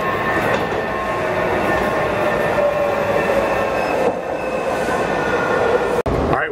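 A continuous rumbling roar of a Washington, D.C. Metro Green Line train moving along rails, with faint squeals and clatter throughout, heard from inside a carriage.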